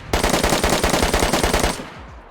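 M249 machine gun fired in DayZ, a loud close rapid-fire burst of about a dozen evenly spaced shots lasting under two seconds, then a quick fading echo.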